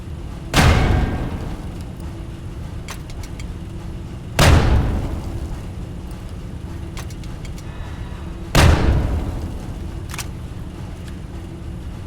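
Grenades exploding in Fallout 3; three heavy booming blasts spaced about four seconds apart, each a sharp loud burst with a rumbling decay, separated by quieter ambient hum.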